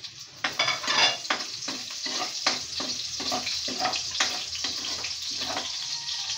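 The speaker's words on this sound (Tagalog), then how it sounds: "Ayan, magigisa na tayo guys." Garlic and other ingredients for pansit bato sauté in a hot pan with a bright, crackling sizzle. Quick, repeated scraping stirs are heard close up, loud and busy, with no voices.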